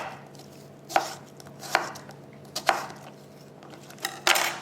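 Knife julienning cucumber on a cutting board for a raw vegan nori wrap: about five sharp, separate chops at uneven intervals, close and fairly quiet, with a soft room hum in between and no talking.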